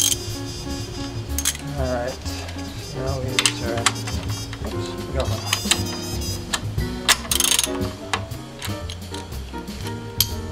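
A ratchet wrench clicks in rapid bursts while loosening bolts on the inverter of a 2010 Toyota Prius, close and clear, with a few metallic clinks in between.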